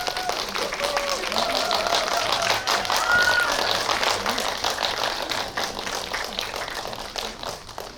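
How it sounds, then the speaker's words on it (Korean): Audience applause fills a hall at the Baeksang Arts Awards ceremony, steady dense clapping sustained throughout with a voice speaking over it and tones ringing in the background. "큰 박수로 맞이해 주시기 바랍니다"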